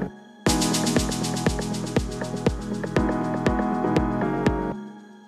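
Shaker sample in an Afro House production, processed with ping pong delay at 1/1 with 74% feedback plus vocoder noise, giving a dense rattling texture with a regular pulse of sharp accents, then stopping abruptly.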